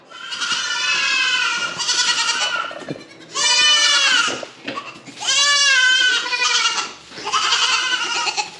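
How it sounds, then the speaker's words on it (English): Little goats bleat loudly and close by inside a farm tool shop, in several long, wavering, overlapping cries with brief pauses between them and no talk. "They got some little goats in here. They're just going off."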